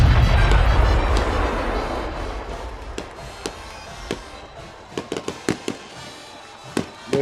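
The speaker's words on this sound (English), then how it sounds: "They got fireworks going on over on the baseball field." Fireworks burst over a baseball field at a football home-season opener, starting with a loud rolling rumble that fades into a string of sharp, separate pops and cracks at moderate distance.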